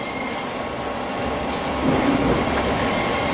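A Crossrail Class 345 train runs between Liverpool Street and Shenfield, its wheels squealing loudly and continuously over a steady rumbling roar heard from inside the carriage, growing slightly louder toward the end.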